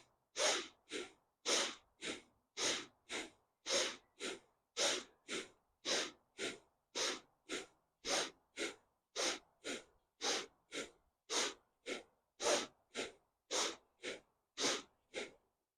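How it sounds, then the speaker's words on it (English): Bellows-breath pranayama: a fast, even series of about thirty sharp, forceful nasal breaths with short gaps between them, close and clear over near silence, keeping a steady rhythm for the whole stretch. "Let's go to doing the bellows breath."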